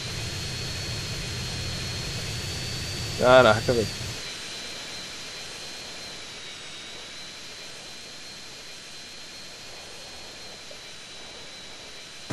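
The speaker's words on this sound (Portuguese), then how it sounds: "Do nada spawn um avião, velho." Steady high jet-engine roar of an airplane in the video game GTA San Andreas holds through the whole stretch, with a brief spoken exclamation early on.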